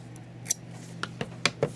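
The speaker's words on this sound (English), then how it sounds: "Now we can grab our scissors and we can cut off" Scissors snipping through yarn during crochet work: five or six short, crisp metallic snips close by, spaced irregularly over a quiet background, with no talking.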